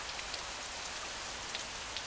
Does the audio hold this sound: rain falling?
yes